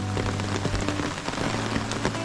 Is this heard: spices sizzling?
no